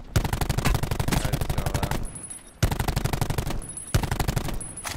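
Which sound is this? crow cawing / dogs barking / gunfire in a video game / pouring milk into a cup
gunfire in a video game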